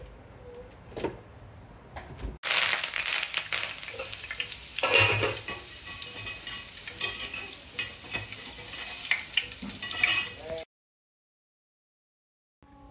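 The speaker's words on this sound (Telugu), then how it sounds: "కరివేపాకు వేస్తాను." Curry leaves hit hot oil with a sudden loud sizzle that crackles steadily for about eight seconds, then stops abruptly. A few faint kitchen clinks come before it, and no one speaks.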